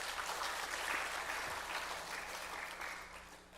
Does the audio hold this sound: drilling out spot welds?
no